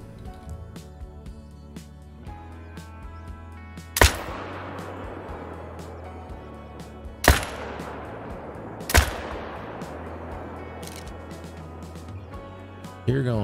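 Rifle shots in the hunting game Call of the Wild, three loud sharp cracks each trailing into a long echo across a quiet outdoor background, with a faint low hum underneath.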